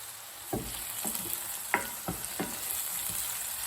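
Food frying in a pan for lasagna sauce, a continuous sizzle broken by several knocking stirs of a spoon against the pan, close up with no talking.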